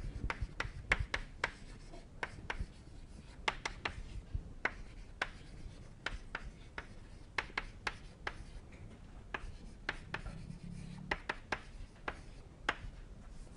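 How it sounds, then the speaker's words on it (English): Chalk or marker strokes writing an equation on a lecture board, with quick, irregular taps and scratchy rubbing strokes repeating throughout, close and fairly quiet, with no talking. "write it quickly again."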